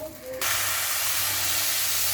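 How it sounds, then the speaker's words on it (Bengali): Water poured into a hot pot of rice being cooked for pulao bursts into a sudden loud hiss that holds steady to the end, following a brief quieter moment. "এই যে পানি দিয়ে দিল।"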